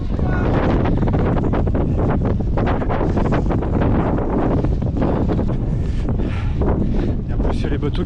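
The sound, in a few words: strong wind on a seaside dike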